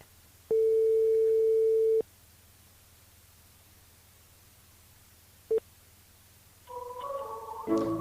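A telephone busy signal on an unavailable number: a long steady tone, a brief short beep a few seconds later, then a cluster of overlapping dialing tones at the end, all over a low hum.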